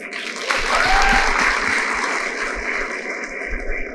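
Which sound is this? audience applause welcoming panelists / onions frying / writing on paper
audience applause welcoming panelists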